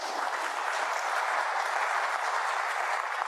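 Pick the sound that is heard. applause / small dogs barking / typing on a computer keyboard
applause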